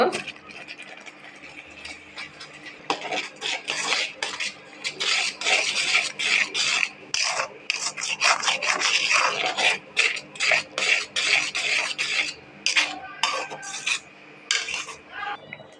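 Grated coconut stirred into hot jaggery for coconut patali, a continuous rasping, scraping stir of a utensil against the pan with rhythmic pulses, close and fairly loud.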